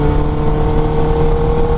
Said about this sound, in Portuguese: Meu, que sinfonia que tá fazendo esse motor, velho.